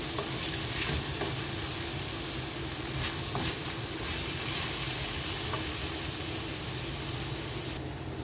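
A sauce of soy sauce, oyster sauce, tomato paste and salt with capsicum stir-fries in a pan for spaghetti pancit, a steady loud sizzle with occasional scraping stirs and no talking.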